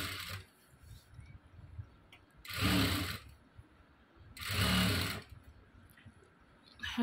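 A sewing machine stitches a blouse shoulder seam in two separate bursts of motor whir, each about a second long, with quieter pauses between them.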